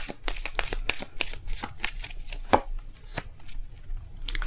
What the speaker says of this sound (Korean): 자, 그러면 우리 달세 여러분들 카드 뽑아드리도록 하겠습니다